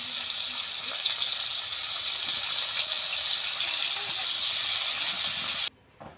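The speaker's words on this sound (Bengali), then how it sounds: "ফুলকপিটা হালকা করে সিদ্ধ করে নিয়েছি এবার ভেজে নেব তেলে ফুলকপিটা" Lightly boiled cauliflower frying in hot oil, a steady, loud broadband sizzle that holds evenly for over five seconds, then cuts off abruptly near the end with no talk.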